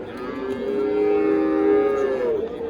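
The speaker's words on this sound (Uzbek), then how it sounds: "Hali yosh buzoq. Sut buzoq hali." A young milk-fed calf at a cattle market gives one long, loud, drawn-out moo close by, with a slight pitch rise and fall across almost three seconds and no talk over it.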